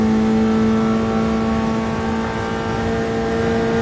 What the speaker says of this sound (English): whatever car this is, sounds a lot better than the Alpha